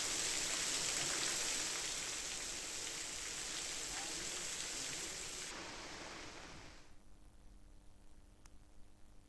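Dense, heavy monsoon rain in Ratnagiri pours in a constant roar that slowly softens and fades, leaving a faint hiss at the end.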